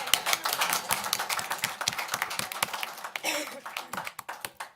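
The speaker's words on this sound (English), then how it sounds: "That deserves a round of applause." Applause at a school board of education meeting, a small group clapping sharply and fairly close, with uneven rhythm and faint voices, tapering off near the end.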